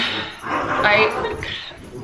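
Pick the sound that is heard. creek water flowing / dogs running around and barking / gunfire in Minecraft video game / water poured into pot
dogs running around and barking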